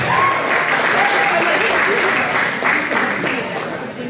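Sustained applause from an audience at an awards presentation, loud and steady throughout, gradually thinning toward the end.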